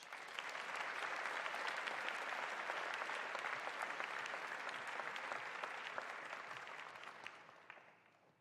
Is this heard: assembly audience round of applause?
yes